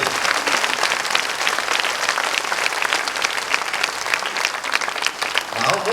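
Loud, dense applause from a large audience at a Kannada religious discourse, sustained clapping filling the hall without pause, close and continuous with no talk over it.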